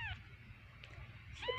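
A kitten meows twice in short, close cries, once at the start and again near the end, over a low, steady background rumble.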